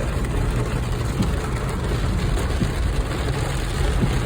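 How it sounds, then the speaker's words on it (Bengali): Heavy rain pounds a car during a storm in Saudi Arabia, a dense, steady roar of drumming water with a low rumble underneath, continuous and loud for the whole stretch. "কি জোরে বৃষ্টি নামছে"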